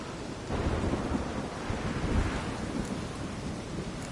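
Thunderstorm with heavy rain in the video game Witcher 3, a dense, steady downpour with low rolling thunder swelling partway through. No voices are heard.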